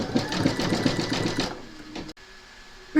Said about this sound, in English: Pop your hoop into your machine and stitch round number 8, and that's going to zigzag here and join the 2 segments together.